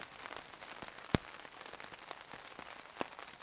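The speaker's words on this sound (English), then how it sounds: "it's raining and it's forecast rain all day tomorrow" Rain falls steadily on a woodland campsite, a soft continuous patter with scattered sharper drops hitting nearby surfaces, faint and without talk.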